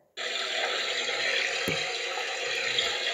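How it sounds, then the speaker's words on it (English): Bathtub tap running steadily, a close, continuous rush of water filling the tub with a brief knock partway through. "we'll go ahead and turn on the water"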